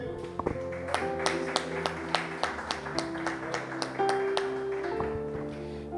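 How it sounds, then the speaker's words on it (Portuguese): Scattered applause from a church congregation, a run of sharp claps spread across the moment with a low sustained musical tone underneath and faint voices in the room. "um aplauso ao Senhor"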